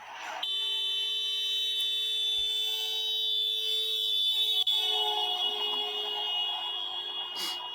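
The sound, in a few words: alarm tone passing by, Doppler effect demonstration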